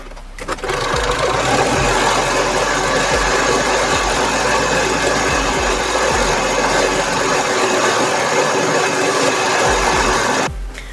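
An overlocker sews a reinforcing pass along a seam in scuba fabric, its steady rapid mechanical whirr running loud and continuous for about ten seconds before stopping abruptly.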